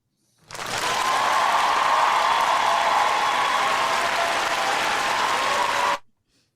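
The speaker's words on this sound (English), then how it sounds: "Let's give him a round of applause." Audience applause from a late-night talk show crowd, a dense, loud burst of clapping that rises quickly, holds steady for about five seconds, then cuts off abruptly.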